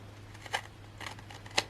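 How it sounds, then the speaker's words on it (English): Three quick, crisp scissor snips through paper spaced about half a second apart, close and fairly quiet over a low background hum. "Go ahead and grab our scissors."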